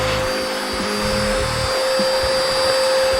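Handheld vacuum cleaner runs steadily and loud while cleaning out an espresso coffee grinder, a continuous motor whine with a sharp high tone and faint shifting knocks as the nozzle moves.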